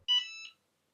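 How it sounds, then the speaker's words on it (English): A Cricut EasyPress 2 heat press sounds its ready beep on reaching temperature: one short, clear electronic tone with a slight stepped second part, fairly soft and alone, followed by silence. "When the EasyPress reaches the desired temperature, you will hear a beep"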